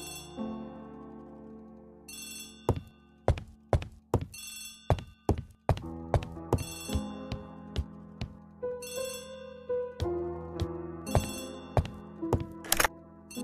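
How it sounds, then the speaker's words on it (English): An old-fashioned telephone rings in repeated double bursts of bright bell tones within the Agatha Christie ABC Murders game, interspersed with hollow thunks and soft musical notes underneath. "Poirot, the telephone."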